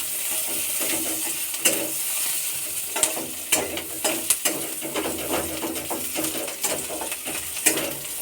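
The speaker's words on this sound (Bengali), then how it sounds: "পেঁয়াজটা একটু হালকা করে লাল লাল করে ভেজে নেব।" Onions fry in a pan for a Bengali fish and potato curry, a steady close sizzle broken by scraping stirs and clinks of a spatula.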